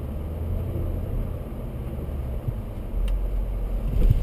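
BMW X5 creeping up onto an off-road course, a steady low engine rumble that swells slightly toward the end, nothing else prominent.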